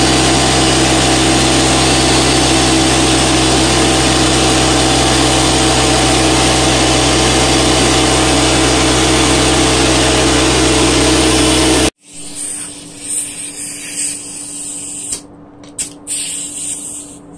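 A Harbor Freight paint spray gun coats a cabinet with a loud, steady, close rushing hiss that runs unbroken for about twelve seconds, then cuts off abruptly into quieter handling noises.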